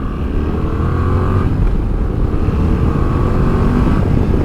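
Yamaha Tracer 7 (2021) motorcycle engine running loud and close during a ride, a steady droning hum that rises in pitch as the bike accelerates, with wind noise underneath.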